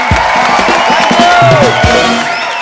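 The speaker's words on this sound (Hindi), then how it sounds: "एक बार मिस्टर अरशद वारसी और मरिया के लिए जोरदार तालियां," A studio audience on a Hindi comedy talk show erupts in loud cheering and clapping, with whoops and shouting voices mixed over a dense, continuous roar of applause close by.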